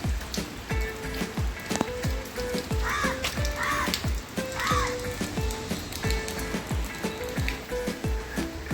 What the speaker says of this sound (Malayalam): പുറത്ത് ചെറിയൊരു മഴയുണ്ട്